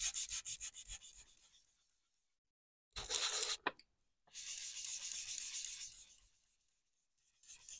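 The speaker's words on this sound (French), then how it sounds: "Alors, on va poncer tout ça." Wood being sanded by hand in short scratchy strokes, quiet and close, with pauses between the bursts of rubbing.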